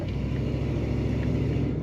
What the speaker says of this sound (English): Good exhaust sound out of that tailpipe.